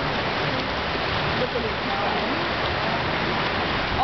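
Heavy night rain in Bocas del Toro, Panama, a dense, steady hiss of downpour filling the scene, with brief voices speaking over it.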